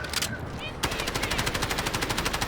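Automatic gunfire in the shooter game Delta Force breaks out after a brief pause, a loud, rapid, steady stream of shots that continues to the end.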